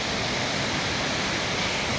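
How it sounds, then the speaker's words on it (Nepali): The swollen Khulkhule river rushes hard downhill after flooding across and blocking the Mid-Western Highway, making a steady, dense roar of churning water that fills the whole stretch without letup. "यी माथिबाट बिजोग पारामा मचिरहेछ खोला"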